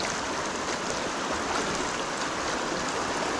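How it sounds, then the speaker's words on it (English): A small creek feeding a larger Ozark river rushes steadily and close by, a continuous broadband wash of flowing water with no voices. "Here's another little creek that runs into Sugar."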